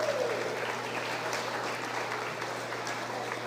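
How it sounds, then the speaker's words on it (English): Spectators at a market and breeding beef cattle show applaud a class of cattle, steady moderate clapping over a constant low hum, continuing evenly throughout. "let's give this biggest class of the day a round of applause"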